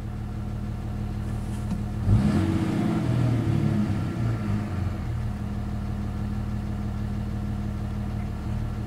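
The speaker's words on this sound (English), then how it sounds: "and the engine kind of stumbles" Ram truck engine idling rough and stumbling as its battery drains, a low steady rumble that surges briefly with a rougher burst of engine noise before settling back to an uneven idle.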